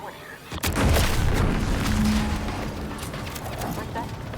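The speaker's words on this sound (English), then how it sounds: "What's that? An explosion?" A deep boom from an explosion in the video game The Outer Worlds 2 lands suddenly, loud and close, then rumbles on with a long decaying tail while game sounds continue beneath.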